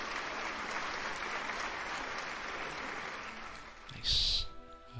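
Dense applause sound effect playing through a livestream of card tricks and sleight-of-hand magic, a steady wash of many clapping hands for about four seconds, then a brief louder burst and a fade.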